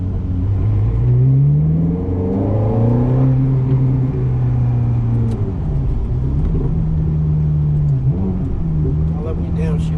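A 2007 Ferrari F430 engine revs loudly close by, its pitch climbing under acceleration and then dropping in blips as it downshifts, with people talking over the roar.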